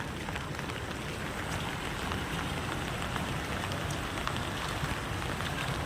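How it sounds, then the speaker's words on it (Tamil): Heavy rain falls at night in a dense, steady hiss with scattered drop patter, constant and fairly close, with no voices. "அந்த பக்கம்ல சரியான மழை ஃப்ரெண்ட்ஸ்"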